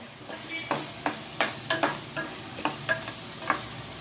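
Chopped tomato fries in a pan for chicken curry, a soft sizzle punctuated by about nine rhythmic scraping stirs of a spoon, close and moderately loud.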